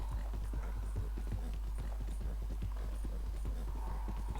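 Steady clip-clop of horse hooves trotting at an even pace in a video game, over a constant low hum, with no talking.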